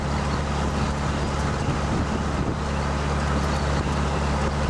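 A dune buggy rolling along outdoors at a steady, low rumble, its engine droning continuously with wind noise over it and no talking.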